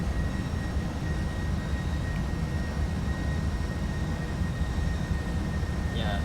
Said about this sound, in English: the 757 engines like to lag a lot. So once you put the power in, it just boosts itself very fast